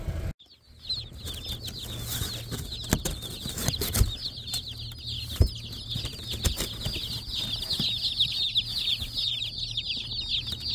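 Chickens on a homestead make a steady, busy clucking chatter with scattered wing flaps and knocks over a low background hum, moderately close and without any voices.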